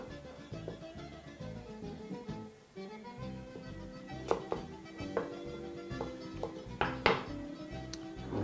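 A knife slices potatoes lengthways into halves on a chopping board while a roast lamb shoulder dinner is prepared, producing sparse, sharp knocks and light clinks spaced a second or so apart, close and moderately quiet.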